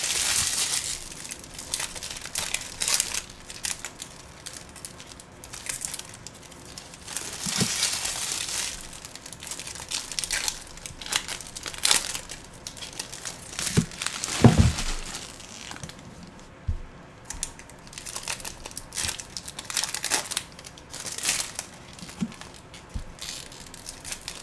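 Plastic wrap from a Pokemon Sun and Moon booster box is crinkled and torn close up, with irregular bursts of crackling and rustling that continue throughout.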